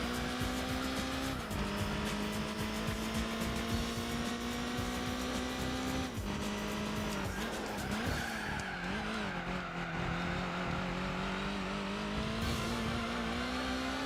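Race car engines in Gran Turismo 4, including a Mazda RX-7 and an Alfa, drone loudly and steadily throughout, with sustained revving tones shifting pitch as gears change and brief tire squeal, no talk.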